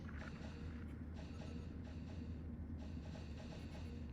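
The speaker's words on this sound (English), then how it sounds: "Engines are charging up." A spaceship's engines charge up in a space survival ship-building game, a steady, dense low mechanical hum and rumble that holds evenly for the whole stretch, with no talk over it.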